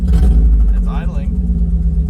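A 1994 Mazda Miata, parked for 11 years and misfiring, idling roughly with an uneven low pulsing beat, close by, while a person talks over it.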